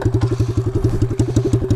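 A pit bike runs with no exhaust, a straight pipe, putting out a loud, rapid, evenly pulsing engine putter close to the microphone with clattery mechanical knocks.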